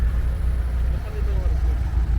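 A 1990s Toyota Corolla with a 4A-F engine runs at a steady idle, its low even drone close and constant under voices talking nearby.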